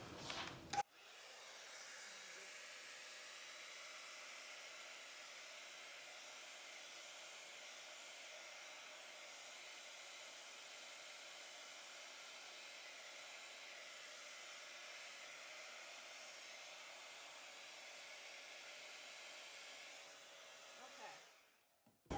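A small hair dryer blows excess acrylic pour paint across a canvas, a steady close whooshing hiss that runs unbroken for about twenty seconds before clicking off.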